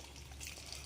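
Water runs from a tap in a brief, steady rushing hiss.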